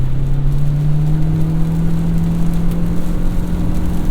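A 2023 Toyota Corolla Cross Hybrid is driven in sport mode, its engine hum steady and slowly rising in pitch under continuous road noise, heard from inside the cabin.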